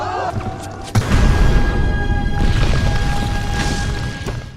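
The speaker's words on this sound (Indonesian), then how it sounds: "Dihalaulah oleh puluhan bom." Bombs go off in a colonial-era battle between Chinese forces and French and Vietnamese troops, a sudden heavy boom followed by dense, rumbling blast noise that stays loud throughout.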